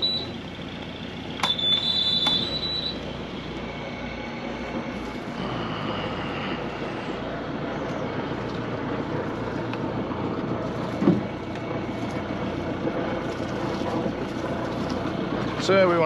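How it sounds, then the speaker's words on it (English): A cruising sailboat's engines start while it waits in a canal lock on the Great Loop. Brief alarm-like beeps come first, then a steady engine drone runs continuously as a low, even rumble. "So with the gates opening, I'm gonna start the engines."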